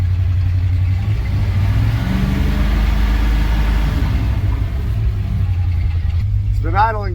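A 1986 Dodge Ramcharger engine, started after 18 years, runs steadily at a low idle, a constant rumbling hum close by, with a brief rising whine near the end.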